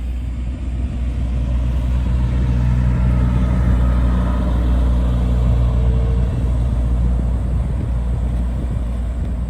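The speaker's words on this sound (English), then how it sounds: "A fucking semi truck's about to go by and it's gonna be loud and annoying" A heavy semi truck engine rumbles steadily and loudly close by, a long, even low drone of the truck going past without pause.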